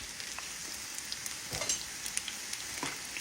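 Food deep fat frying in hot grease gives a steady, close crackling sizzle, with small pops and bursts of bubbling and no voices.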